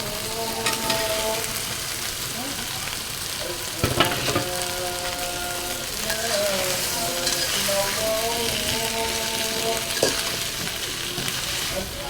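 Potatoes and drumsticks frying in a pan of cooked-down spice masala give a close, steady sizzle with stirring scrapes, a few sharper knocks, and faint tonal sounds in the background.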